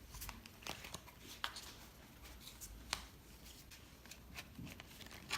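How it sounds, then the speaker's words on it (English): A deck of tarot cards being shuffled close by, a soft run of riffling and flicking with a few sharper snaps, quiet and steady with no talking. "you can shuffle again when you think about this, or you can just cut the deck"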